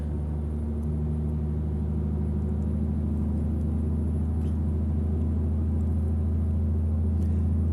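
A steady, loud Freightliner Cascadia truck engine in a driving simulator game drones at constant high revs, a deep rumbling hum with no pauses or speech throughout.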